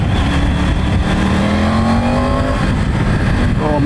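A Triumph Tiger 900 Rally Pro motorcycle accelerates hard at full power, its engine note rising steadily in pitch over a constant roar, close and loud with no talking.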